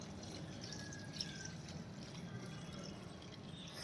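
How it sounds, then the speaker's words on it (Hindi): Water being poured onto vegetable seedlings in a home garden, a soft steady trickle and splash running throughout at low level, with no talk. "हाँ ऐसे ही भर दो पानी"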